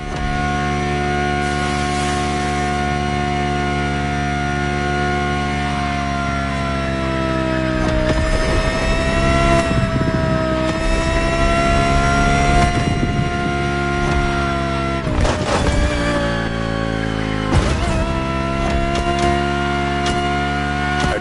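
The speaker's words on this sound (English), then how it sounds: "The 2020 Audi R8 LMS GT2." A 2020 Audi R8 LMS GT2 race car engine in The Crew Motorfest, a loud sustained high-revving drone with rising and falling pitch as gears shift, steady and close throughout with no talking.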